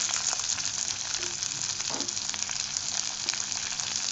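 Diced capsicum sautés in a hot pan with ginger-garlic paste for paneer chilli, giving a steady, close sizzle of frying with faint stirring and no talk.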